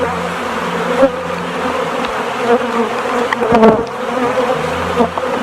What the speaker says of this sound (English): I'm going to brush off the rest of the bees.